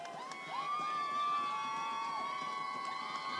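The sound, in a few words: football crowd cheering for the Trojans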